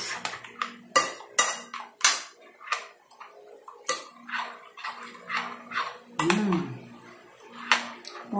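A utensil scrapes and clinks against a bowl as mashed banana and egg are stirred into batter, irregular knocks and taps repeating close by, with someone speaking in between.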